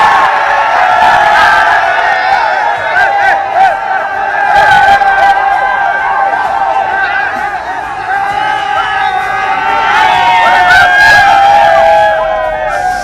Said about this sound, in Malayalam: എന്തായാലും നമുക്കിനി നിങ്ങളുടെ ഒരു ആരവമാണ് കാണാനുള്ളത്